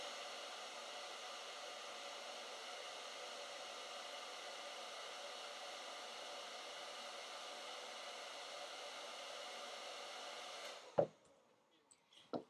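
A steady, close whirring blow like a hair dryer or heat gun runs for about eleven seconds while heating 160 PSI hula hoop tubing, then cuts off, followed by a couple of sharp handling knocks.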